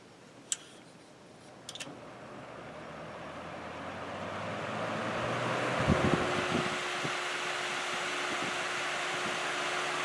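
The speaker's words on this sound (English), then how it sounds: "that's definitely spinning up better than it did for previous times" A Kenmore dehumidifier fan spins up after a couple of sharp clicks, its whooshing airflow growing steadily louder and settling into a steady hum with a low tonal drone, close and alone.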